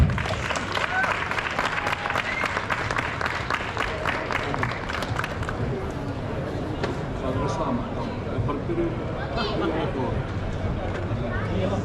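Loud, sustained applause from a crowd for the contestants of a cooking competition at a career event, with dense clapping that thins slightly toward the end amid background chatter.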